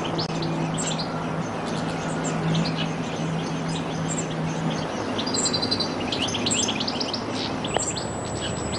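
Common blackbirds chirping and calling in the Collserola forest while feeding their hungry young, repeated bright calls at moderate distance above a steady hiss of outdoor background, with no voices.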